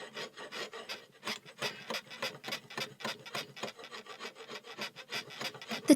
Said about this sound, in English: Hugh smooths the edges and sharpens the corners of the tenon, scraping it with a large flat chisel called a framing slick